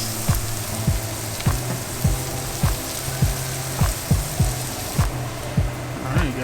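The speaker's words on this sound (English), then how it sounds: "we're just gonna saute these up until they're good and fragrant" Vegetables sauté in a hot pan for a tomato-based Tuscan chicken dish, giving a steady close sizzle with regular knocks and scrapes of stirring about every half second.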